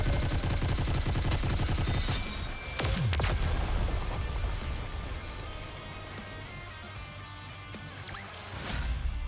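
Dense gunfire and explosions in the mobile shooter Goddess of Victory: NIKKE, loud rapid bursts easing into a lingering rumble before another surge near the end, with game music beneath.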